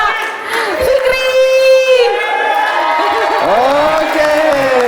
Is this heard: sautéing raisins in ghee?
no